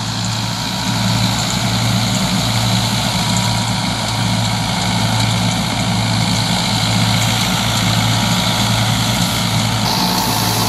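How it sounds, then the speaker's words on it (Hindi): An old Massey Ferguson MF 165 tractor engine drones steadily at a low, even idle, loud and close, with no talking. "तो ट्रैक्टर जरा स्लो पर चलता है"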